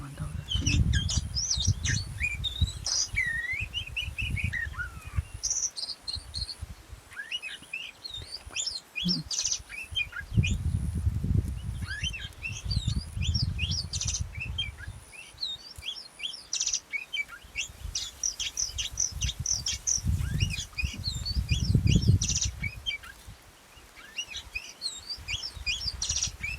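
Magpie-robins (kacer) call in an oil palm plantation, bright chirps and whistled phrases scattered across the clip at moderate distance, over low rumbling background noise.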